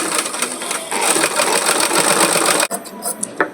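A sewing machine sews a set-in dress neckline in one steady, fairly loud run of close stitching that stops abruptly near the end, followed by a few light handling sounds.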